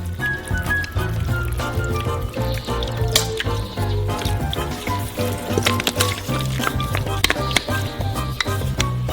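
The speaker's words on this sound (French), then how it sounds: "et versez-la sur la plaque de cuisson." Beer poured from a can onto a baking tray, a steady close splashing and trickling of liquid lasting throughout, under background music.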